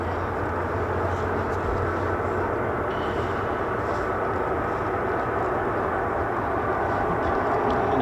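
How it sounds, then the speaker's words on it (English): A Boeing C-17 Globemaster at a US Air Force base at RAF Lakenheath runs its engines, a steady, dense, roaring jet rumble that stays level and fairly loud throughout with no talk. "on your screens right now is a C-17 Globemaster running, looking good, smoking as well nicely"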